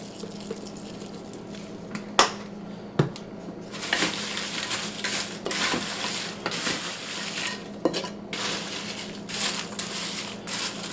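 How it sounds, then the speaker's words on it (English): Seasoned oyster crackers getting a quick toss with sprinkled seasoning, a steady rustling crunch with a few sharp clinks and taps against the container, close and with no talking. "sprinkle some of this on and then give it another quick toss"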